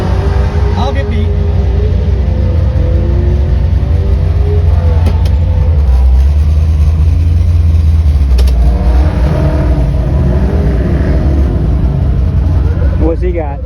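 A Ford Fairlane with a 390 engine, three deuces and 4.11 gears rumbles loudly and steadily close by, with a few revs swelling through the run as people talk over it.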